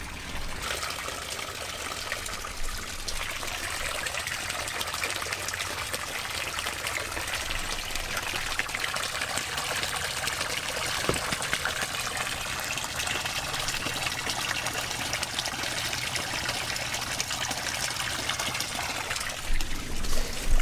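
Fresh water pours steadily into a turtle tank, a continuous loud gushing and splashing that holds for the full length with no pauses.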